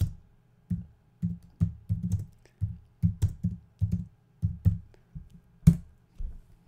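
Keys clack on a computer keyboard in quick irregular bursts of soft, close taps with short pauses between, and no voices.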